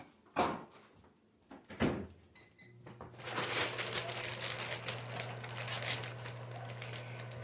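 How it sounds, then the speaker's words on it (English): A package of chow mein noodles opened in a home kitchen, a couple of dull knocks followed by a sustained close crinkling and rustling of the bag over a low steady hum. "Zori, can you open up the chow mein noodles?"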